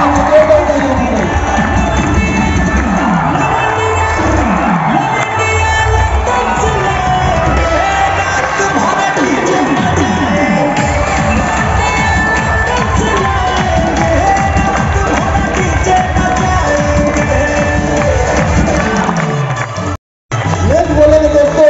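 Loud, continuous crowd cheering with shouts, whoops and some clapping fills an award ceremony at Gandhi Maidan in Patna. The noise holds steady and close throughout, then cuts out briefly near the end.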